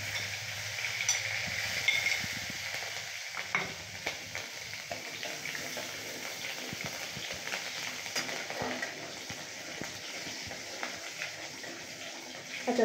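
Asafoetida and green chili go into a hot pan for a Bengali hing aloo dish, giving a steady sizzling and frying hiss with light stirring scrapes, close and continuous with no talk.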